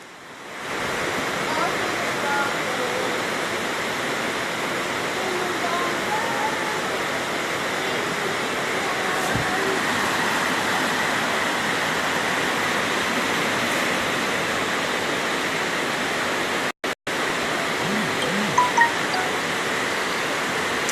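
Floodwater rushes steadily through a flooded housing scheme in Portmore, a continuous broad roar of moving water, loud and close, with no pauses across the whole stretch.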